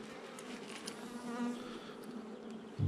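Honey bees buzz around an open hive in March, a dense steady hum close to the microphone with individual bees droning past.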